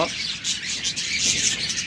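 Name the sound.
diamond doves calling in a bird shop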